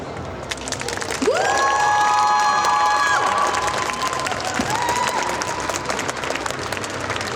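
Audience applause with cheering at a cosplay contest show at the Japan Pop Show in Mons, a steady loud roar of clapping from a crowd, with whistles and shouts rising over it throughout.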